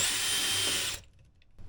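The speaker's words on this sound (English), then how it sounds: "I'm just going to send one hole straight through the floor" A power drill whirs briefly at high speed while boring a hole through a caravan floor, then stops abruptly, leaving near silence and a faint knock.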